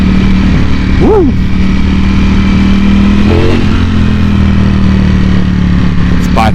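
A Ducati Panigale V4S in race mode sits at a loud, steady engine drone with sharp revving blips rising and falling several times, close and continuous throughout.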